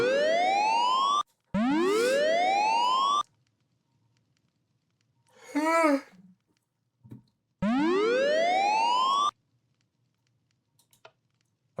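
Sirens wail in the Minecraft QSMP video game, rising sweeps in two long bursts separated by a gap, loud and alone, with a brief boing-like effect in between.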